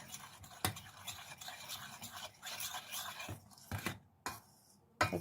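Quiet scraping and swishing of a utensil stirring ragi flour into cold water in a pot, with a few sharper knocks against the side.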